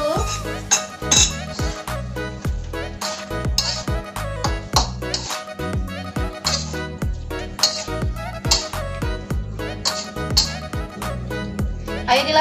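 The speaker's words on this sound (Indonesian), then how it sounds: "Jadi kita aduk dulu." A metal utensil stirs stir-fried chicken liver and gizzards in a pan, producing repeated sharp scraping clinks and clanks in a brisk, uneven rhythm, close and fairly loud.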